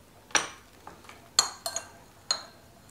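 Beans stirred with taco seasoning in a bowl: a spoon knocks against the bowl in several light, sharp clinks at an uneven pace, close by, with no talking.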